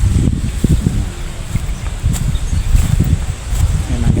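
Wind buffets against the microphone in low, uneven gusts outdoors in a garden in the Philippines, with faint rustling and scattered small sounds in the background.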